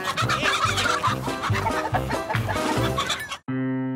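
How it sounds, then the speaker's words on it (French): Several chickens cluck and squawk in a busy, repeating chatter for about three seconds, fairly close and clear, before the sound cuts abruptly to a short, different tonal sound at the end. "Des poulets."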